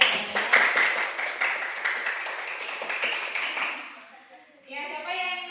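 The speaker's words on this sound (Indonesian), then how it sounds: "Ya, tepuk tangan dulu ya." Classroom of students clapping together on the teacher's cue, a dense steady patter of many hands that fades out, followed by a voice speaking.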